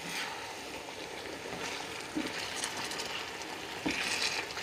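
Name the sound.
chicken leg pieces cooking in a pan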